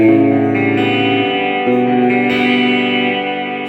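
A sustained electric guitar chord rings out through a Hughes & Kettner Black Spirit 200 amp with reverb turned fully up, its tail washing and smearing as the notes shift, loud with no talking.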